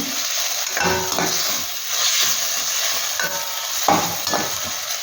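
Tomato masala for a Koddai fish curry sizzles in a pan while a utensil stirs and scrapes it in several distinct, close strokes over a continuous frying hiss, with no voices.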